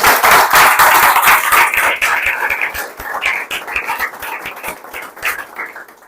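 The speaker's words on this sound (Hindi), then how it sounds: "इन सब के लिए एक बार ताली बजा दिया जाए" A small group claps at a results celebration for a state exam, a quick run of sharp hand claps close by that tapers off toward the end.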